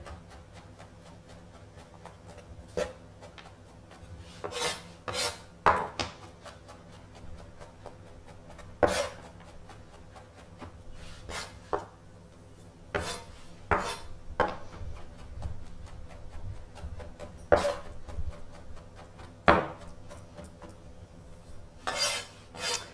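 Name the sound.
chopping mushrooms with a knife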